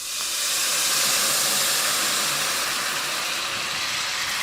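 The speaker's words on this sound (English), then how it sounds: "And that's deglazing the pan" Orange juice hitting a hot pan while deglazing after cooking shrimp, a loud, steady steam hiss that holds at full strength for several seconds with no talking.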